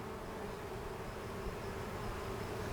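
Honey bees buzzing around hive frames in a backyard scale hive, a steady faint droning hum from many insects, continuous and even, with no talking.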